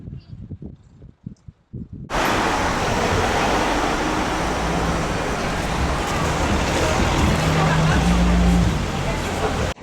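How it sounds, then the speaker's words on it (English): Broad, steady wash of seaside ambience on a large sandy beach at Margate, heard alone after a brief quiet start and holding as a loud, continuous roar. "just check out what a beautiful beach it is"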